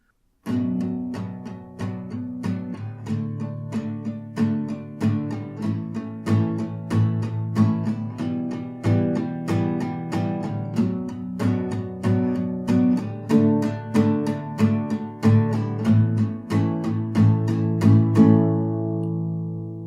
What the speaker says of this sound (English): the way we're going to be strumming this is just a bunch of down strums.